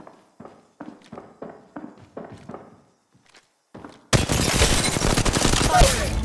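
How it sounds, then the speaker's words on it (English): Weapons fire in the Apex Legends video game: a string of sharp, evenly spaced shots, then a brief pause, then a loud dense burst of sustained fire. "Firing. Reloading."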